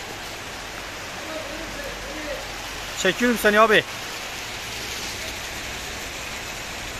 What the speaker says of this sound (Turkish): Şu anda yağmur yağıyor, yağmur.